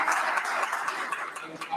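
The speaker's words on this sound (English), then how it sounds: "Please give her a big hand." Audience applause at a motivational talk, steady dense clapping filling the whole moment at moderate level, with some speech-like murmur mixed in.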